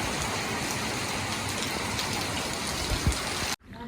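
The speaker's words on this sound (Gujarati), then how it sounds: "જો કેવો વરસાદ આવ્યો" Heavy rain pours steadily in a dense, loud hiss, then cuts off abruptly near the end.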